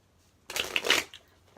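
A tarot card deck gets one quick, brisk shuffle, a half-second burst of papery riffling close up in otherwise quiet surroundings.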